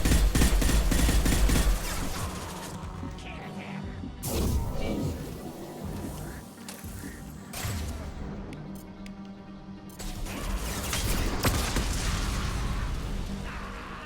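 Heavy gunfire and explosions from the video game Mass Effect Legendary Edition: dense rapid bursts, a loud blast near four seconds, then more sustained shooting and booms, with a voice talking briefly amid the combat.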